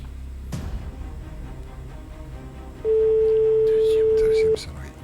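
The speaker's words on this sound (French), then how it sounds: "Première sonnerie." A single steady telephone ring tone sounds clearly for under two seconds as a call is placed during a live TV SMS-game prize draw, preceded by a quiet studio background.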